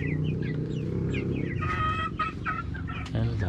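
Several chickens cluck and squawk close by, overlapping in a busy, continuous chatter over a low background rumble.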